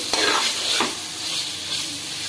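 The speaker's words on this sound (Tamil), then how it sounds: "மஞ்சள் பொடி சேர்த்து கொஞ்சம் நல்லா வதக்கி விட்டுக்கலாம்." Soft sizzling and a few stirring scrapes in a hot pan as vegetables sauté with turmeric powder, a brief, moderately quiet frying hiss with no voices.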